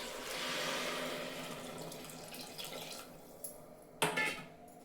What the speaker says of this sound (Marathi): त्यामध्ये आपण नारळाचं पाणी ओतून घेऊया।